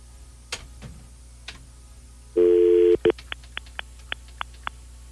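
Steady telephone line tone while an 800 number is dialed, a sustained loud tone cut off and followed by a quick run of short, evenly spaced keypad beeps, with a few faint ticks before.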